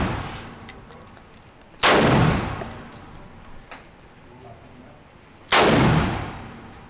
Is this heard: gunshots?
yes